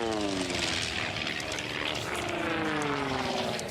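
Lance Air Legacy GA1 racing plane at the Reno Air Races, its propeller engine droning loudly and continuously as it passes, with the pitch bending downward.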